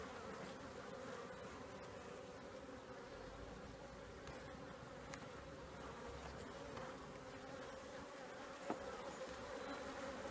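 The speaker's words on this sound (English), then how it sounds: "every time I reach in here, it's just bees, bees, bees" Honeybees buzz continuously in an open hive during an inspection, a steady close droning hum that holds at an even level throughout with no voices.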